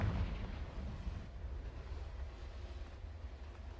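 A Confringo fire spell explosion in Hogwarts Legacy, a heavy low boom that hits at the start and fades into a rumbling tail over a few seconds.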